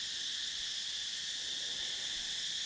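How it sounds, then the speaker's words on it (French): Insects chirping near a waterfall in Cambodia, a dense, steady high-pitched shrill drone that stays loud and unbroken throughout. "les bruits de ces insectes, c'est vraiment extrême"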